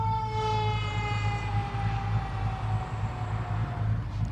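An ambulance siren wails through city streets, a loud, sustained electronic tone that sweeps slowly up and down while a steady low engine rumble runs beneath it.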